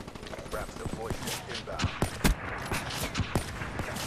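Gunfire in the video game Call of Duty Black Ops, with several sharp, punchy shots and bursts spread unevenly across a busy game soundscape, while players talk over it.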